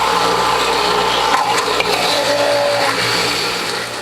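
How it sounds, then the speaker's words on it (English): A juicer grinds small carrots fed end to end, a loud continuous motor whir with rough crunching bursts and a brief whine partway through, with no talking. "Put some of these small carrots through."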